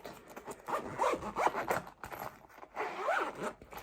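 A zipper being pulled open on a school pencil case, heard up close as several rasping, scraping pulls of uneven length with short pauses between, fairly quiet and without talk.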